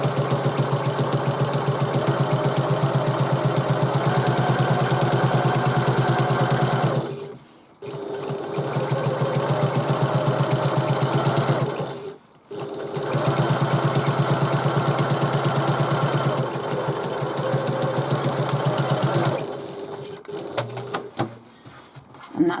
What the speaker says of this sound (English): stitch the other panel.